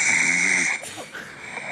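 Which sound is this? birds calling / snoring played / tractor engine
snoring played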